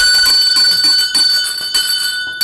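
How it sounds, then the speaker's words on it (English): A bell rings loudly and rapidly again and again, with bright strokes that blend into a continuous metallic clangor and no voices. "Did I ring the bell for Mr. Linares?"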